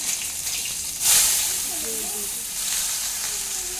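Whole cumin seeds and a green chilli hit hot oil with a sudden loud sizzle that settles into a steady, softer frying hiss.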